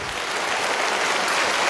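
A theater audience claps steadily at a live concert welcoming a singer, a short, dense burst of applause with no pause.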